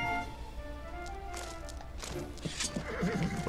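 Horses whinny and neigh over a steady background of hoofbeats in a video game, with a louder whinny near the end.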